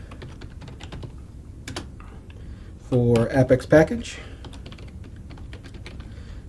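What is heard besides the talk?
typing commands on a computer keyboard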